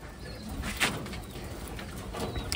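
Taiwanese pigeons coo softly in a hen section over steady background hiss, with a brief flutter or rustle near the middle and faint, intermittent calls throughout.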